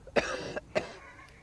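Two sharp coughs from one person, close and fairly loud, spaced about half a second apart, with a short trailing breathy sound after the second.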